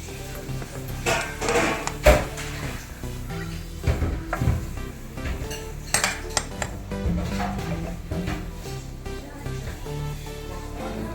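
Chicken mandi pieces are shifted into another vessel, with close metallic clinks, scrapes and taps of utensils on pots scattered irregularly throughout.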